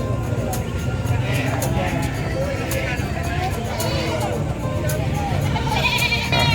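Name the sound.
goats bleating at livestock market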